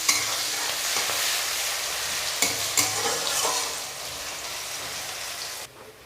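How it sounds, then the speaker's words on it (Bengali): Chopped onions stir-frying in hot oil in a pan, a dense continuous sizzle broken by a few scraping stirring strokes, then the sizzle drops sharply near the end. "ভালো করে নেড়ে চেড়ে পেঁয়াজগুলোকে লাল লাল করে ভেজে নেব।"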